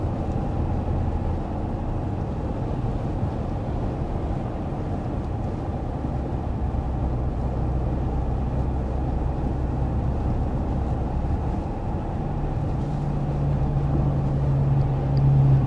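Steady, even road and engine hum inside a 2024 Audi Q7 cruising at 55 mph in comfort mode, a constant low rumble with no talking.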